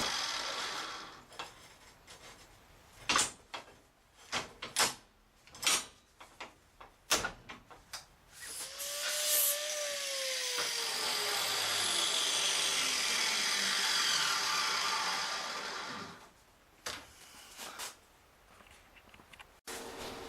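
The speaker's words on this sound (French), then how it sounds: "Je fais ça à la meuleuse pour les avoir un peu identiques." Angle grinder deburring rebar pieces, heard as a steady loud whine that swells and holds for several seconds, surrounded by irregular clanks and scraping knocks of handling metal.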